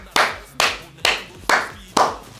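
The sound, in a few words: applause for the gaming room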